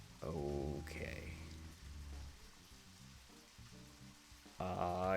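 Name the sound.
rain in the video game Deadly Premonition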